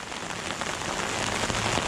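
Heavy rain pours down steadily outdoors during a fishing session, a dense, even hiss of drops hitting surfaces, close and constant, with no voices.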